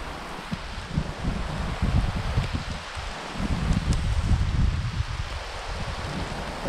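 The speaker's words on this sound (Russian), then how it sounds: "Стоило нам выйти, пройтись, начался дождь." Heavy rain and gusting wind outdoors on an Italian farm by a hay field with mountains nearby, a steady loud rushing wash with rumbling gusts that swell and ease throughout.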